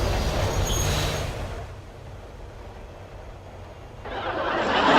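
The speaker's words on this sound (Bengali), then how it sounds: "ট্রেন এখন স্টেশনে থামবে" A train rumbles along the rails as it nears a station stop, a loud steady roar that fades to a quieter rolling hum before swelling again, heard from inside with no talk.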